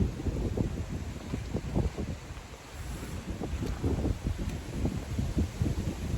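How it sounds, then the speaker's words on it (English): Steady wind gusting outdoors by the water, rumbling buffets against the microphone that rise and fall continuously, loud and close, with no talking. "we're in a windy environment"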